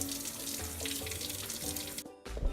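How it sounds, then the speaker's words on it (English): A kitchen tap runs steadily into a sink while an onion is washed under it, with splashing that cuts off briefly near the end and then resumes. "Now we're going to be washing the onion so that we can add it to the cauliflower rice later on."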